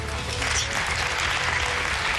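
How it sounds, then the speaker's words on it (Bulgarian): A studio audience at a televised singing contest claps for the contestant Ralitsa. The applause is brief and full, a continuous wash of many hands over a low, steady background. "Аплодисменти за Ралица!"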